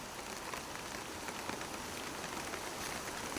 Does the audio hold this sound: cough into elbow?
no